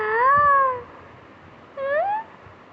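A pet kitten gives two clear, rising meows separated by a short pause, close and alone with no talking.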